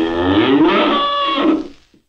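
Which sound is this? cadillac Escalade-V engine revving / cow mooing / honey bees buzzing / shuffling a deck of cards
cow mooing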